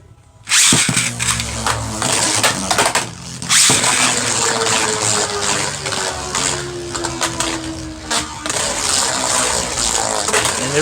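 Beyblades Vise Leopard and Genius whir and grind in a stadium, a dense, loud scraping spin with sharp clashes, a sudden start and a steady falling whine as they slow.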